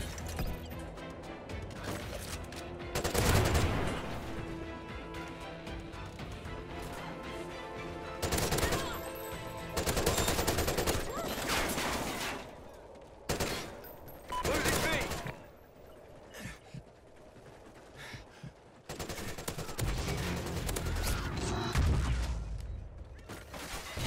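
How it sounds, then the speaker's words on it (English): Gunfire in a video game comes in repeated loud bursts of rapid shots separated by quieter gaps, with several bursts spread across the stretch and sharp impacts among them. "I don't even know where I'm getting shot from now."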